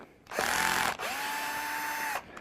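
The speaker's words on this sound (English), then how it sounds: "Got my clutch set low on my drill so I don't hurt anything." A cordless drill with its clutch set low backs Phillips screws out of a window sheer cover, two steady whirring runs, the first short, the second longer, close and loud with no talk.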